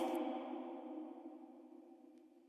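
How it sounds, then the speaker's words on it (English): A sustained tonal wash slowly fading away over a couple of seconds, the long smooth decay of a plate reverb tail on a female vocal dying into silence. "just listen to the tail and the decay time on this plate reverb"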